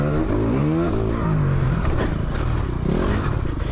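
A Ducati 450 dirt bike races along a dry motocross track, its engine loud and close throughout with rising and falling revs as the throttle is worked, plus some clatter.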